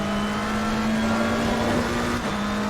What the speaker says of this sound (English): You can hear I am lifting so like 200 metres ahead of where I need to brake.